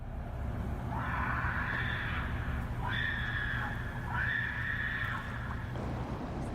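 Distant screaming that could be a mountain lion or a woman sounds as three rising, wavering cries over a constant low rumble of background noise.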